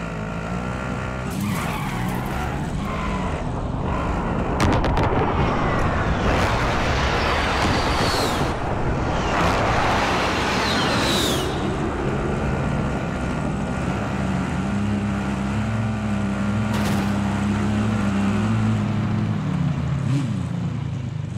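A vehicle being driven in the Call of Duty: Modern Warfare video game, its engine droning continuously with revving shifts, tire skids and sharp transient knocks, loud and close throughout.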